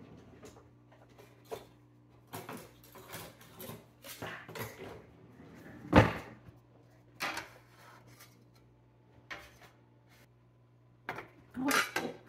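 Baked sour cream biscuits flipped upside down in a pan, giving scattered clinks and scrapes of metal and dish handling with one sharper knock midway, no talk.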